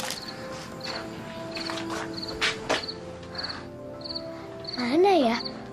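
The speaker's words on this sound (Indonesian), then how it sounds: "Kok bunyi sih? Kayak jangkrik." A cricket chirps in quick repeated bursts throughout, moderately close, with a few thumps and a brief vocal sound near the end.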